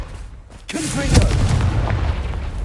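A Confringo blasting-spell explosion in the Hogwarts Legacy video game, a sudden loud booming burst that rolls on into a sustained rumble, with a brief voice just before it.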